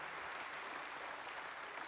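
Business leaders applaud at a political plenary, a steady, dense wash of clapping that stays at an even level throughout and sounds fairly distant and soft.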